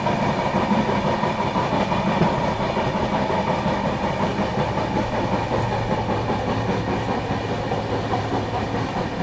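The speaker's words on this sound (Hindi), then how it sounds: "अमृत भारत एक्सप्रेस।" The Amrit Bharat Express passes on the New Delhi–Patna line, a loud, continuous rumble with rhythmic clickety-clack of wheels over rail joints, holding steady and close throughout.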